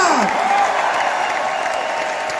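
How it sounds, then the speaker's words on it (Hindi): Audience applause breaks out at a motivational talk in India, a steady wash of clapping from a crowd that holds at an even level throughout, with a faint voice underneath near the start. "एक बार जोरदार तालियां"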